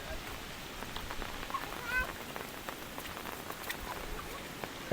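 Rain patters steadily on surfaces after a heavy Konkan storm, a soft, even background hiss with scattered drips, while a cat meows briefly and a voice is heard faintly.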